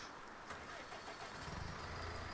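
A farm vehicle engine in Farming Simulator 19, a loud continuous mechanical drone that swells slightly toward the end, heard alone.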